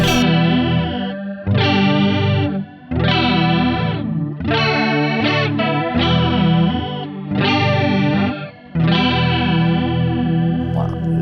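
Electric guitar played through a Tampco The Twist modulation pedal set to its last notch, a strong, very wide swirling chorus-like wobble over sustained strummed chords, loud and continuous with brief gaps between phrases.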